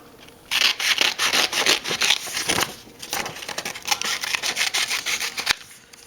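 Scissors snip and rub through patterned card-making paper, a busy run of close, crisp cutting strokes with short pauses, fairly loud and alone.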